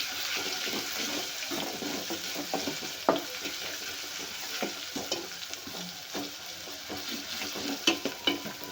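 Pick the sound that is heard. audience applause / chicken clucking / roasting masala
roasting masala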